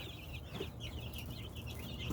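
Backyard chickens, a mix of breeds including Rhode Island Reds, cluck in a soft, repeated chatter close by, with no talk over them.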